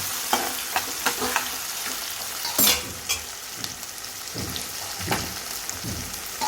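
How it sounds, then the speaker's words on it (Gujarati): Onions frying with spices in a pan, stirred with a spoon: a steady sizzle with repeated scraping strokes at close range, no talk. "થોડી ડુંગળી ટ્રાન્સપરન્ટ થાય એટલે આપણે મસાલા કરીએ."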